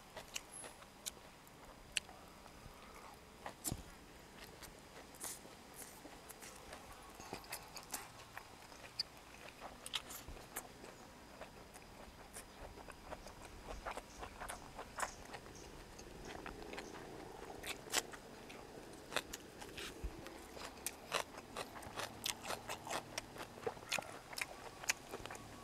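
Crunchy chewing of fried pork intestine dipped in seafood sauce with fresh raw vegetables at a Thai mukbang eating show, steady close-up bites and crackly mastication running throughout with sharp clicks, no talk.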